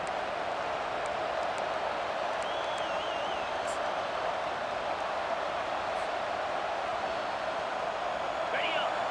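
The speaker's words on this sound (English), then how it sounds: "This crowd knows when to bring it." Stadium crowd noise in a college football video game, Baylor at Michigan, a broad steady roar of many voices that persists evenly throughout, loud and diffuse, with brief whistles above it.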